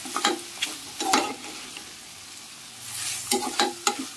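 Spoon stirring bottle gourd and freshly grated coconut in a hot pan for a chutney, with several soft scraping strokes and a light sizzle underneath, fairly close, with no talking.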